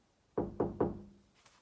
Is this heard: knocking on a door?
yes